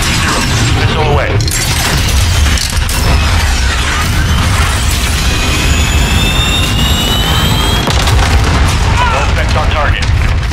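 A missile strike in Call of Duty Modern Warfare 2019 multiplayer: a loud, dense roar of jet engine and explosion rumble with crackling debris, sustained and close throughout, with in-game voices heard over it.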